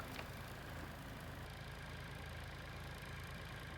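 A snow removal tractor's engine idles steadily in a February snowstorm, a faint, continuous low rumble under windy hiss with no talking.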